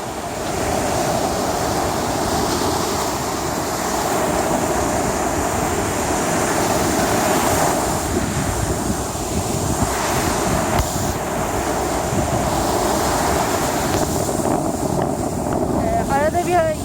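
Steady roar of surf washing ashore at Bağırganlı beach, Kandıra, Turkey, continuous and close, with wind buffeting the microphone throughout.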